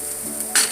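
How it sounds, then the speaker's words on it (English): Rosemary and shallot get a quick stir in a hot pan, a short scrape over steady sizzling that swells louder in the final moments. "Go ahead and give this a quick stir,"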